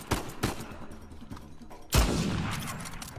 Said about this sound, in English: I'm getting my ass whooped by all these gunshots